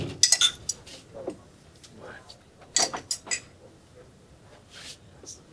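A spoon gently mixing a tablespoon of lemon juice into soy milk for bread making, with soft clinks against a container, a few louder taps and quiet gaps in between.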